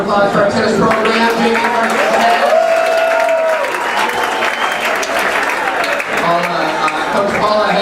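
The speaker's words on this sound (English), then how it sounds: "Another round of applause for our tennis program." Loud, sustained applause fills the room from a large crowd at a school sports banquet, with scattered cheers and voices underneath.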